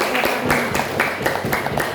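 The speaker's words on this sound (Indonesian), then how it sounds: "Tepuk tangan lagi." Audience clapping at a talk on nutrition charity, steady dense applause of many hands with sharp bursts recurring about every quarter second, close and loud throughout.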